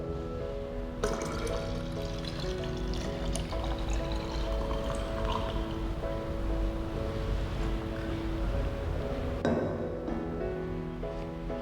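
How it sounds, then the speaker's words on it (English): A steady stream of 400 milliliters of water pours into a 1 liter measuring cylinder, a continuous close splashing fill that runs for about ten seconds over faint background music. "We now pour this 400 milliliters into 1 liter measuring cylinder"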